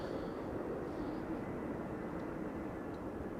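An Embraer 190 airliner arriving from Aalborg on runway 27 at Amsterdam Schiphol on a windy day produces a steady, broad jet roar that holds loud and constant throughout.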